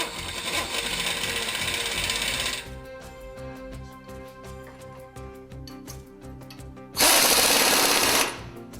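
A power tool torques suspension bolts during a lift kit install on a Jeep JK, giving two loud whirring bursts with rapid clicking ratchet-like hits between them.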